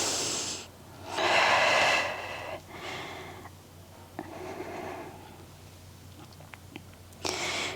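Slow, deep breathing during a pregnancy-friendly Pilates and barre workout, with long audible inhales and exhales in several close, breathy waves over a low steady hum.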